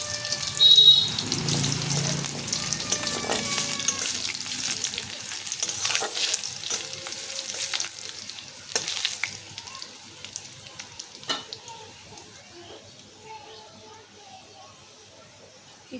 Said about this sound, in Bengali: একটু রসুনটা ভাজা ভাজা হতে দেব।